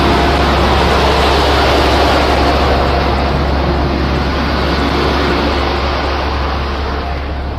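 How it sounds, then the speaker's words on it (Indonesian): A bus engine rumbles loud and close, a continuous heavy drone with broad roaring noise that holds steady throughout, with no voices. "ini suara bus"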